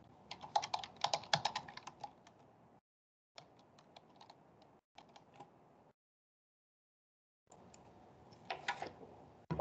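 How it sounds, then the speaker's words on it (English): Someone types on a computer keyboard in quick, uneven bursts of clicks separated by short silent gaps, faint and close. "I think they're still typing"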